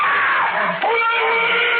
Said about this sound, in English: Those screams. They sounded familiar.